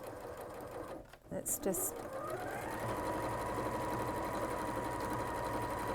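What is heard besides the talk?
sewing machine tacking along a fabric edge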